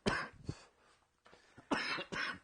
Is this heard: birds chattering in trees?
no